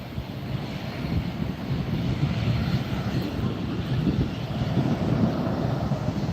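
A Southwest airliner rolls out at LAX, a loud, sustained jet engine roar with low rumbling and light wind buffeting.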